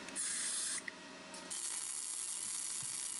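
Anti-spatter welding spray hisses from an aerosol can onto the nozzle of a MIG welding torch in two bursts, a short loud spray, a brief pause, then a longer steady hiss.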